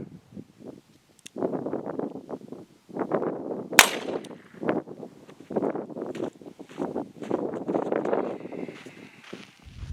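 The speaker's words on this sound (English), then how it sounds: "We're shooting 38 special blue shot shell, a distance about 10 to 12 feet away." Several sharp gunshots from a .38 Special revolver firing blue shot shells at a target 10 to 12 feet away, scattered among footsteps and wind buffeting on the microphone.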